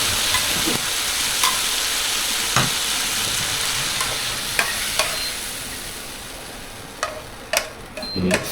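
Pad thai stir-fries in a pan, with a steady loud sizzle broken by occasional scrapes and clicks from the spatula.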